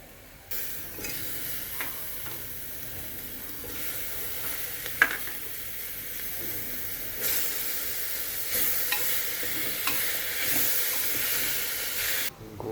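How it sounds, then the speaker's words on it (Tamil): Ginger, garlic, onion, tomato, mint and coriander sizzle steadily in hot oil. The frying hiss is continuous and close, with occasional stirring clicks. "இஞ்சி பூண்டு நம்ம போடுறோம். வெங்காயம், தக்காளி, புதினா, மல்லி ஆட் பண்ணிக்கலாம்."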